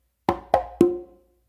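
A hand-played conga gives three close, evenly spaced strikes: two sharp close slaps and then a ringing open tone that sustains and fades, alone and near.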